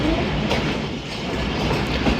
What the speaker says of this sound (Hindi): वज़ीराबाद जंक्शन पे अप्रोच बना रही है 48 डाउन रहमान बाबा एक्सप्रेस